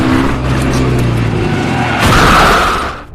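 A truck approaches in a movie scene while tires skid and squeal, a loud, continuous roar of engine and rubber that swells to a harsh burst near the end before cutting off.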